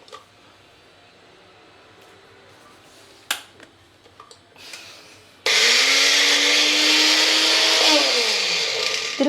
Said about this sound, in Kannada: ಸೊ ಇದನ್ನು ಗ್ರೈಂಡ್ ಮಾಡ್ಕೊಂಬಿಡೋಣ.